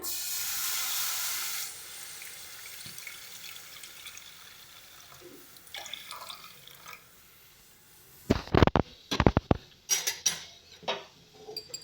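Water is poured into a wok (kadai) for boiled jackfruit seeds, a close, steady splashing hiss lasting about two seconds, followed after a quieter stretch by sharp metallic clinks and clatter of utensils against the pan.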